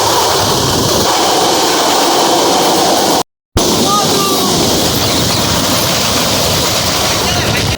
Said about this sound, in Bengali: এটা কি গেলো রে ভাই ট্রেন গেলো না রকেট গেলো